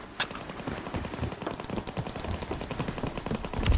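Gunfire in the video game Call of Duty WW2: a sharp opening shot, then rapid, continuous automatic bursts rattling at close range and building louder toward the end.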